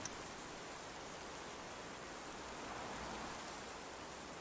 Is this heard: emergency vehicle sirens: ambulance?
no